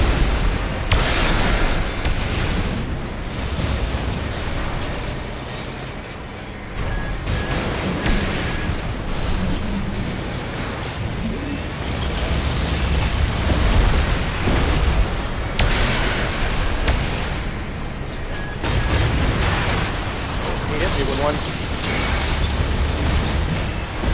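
A continuous barrage of loud, booming dual grenade launcher explosions in a video game, rumbling one after another with dense crackling debris, with no pauses across the whole stretch.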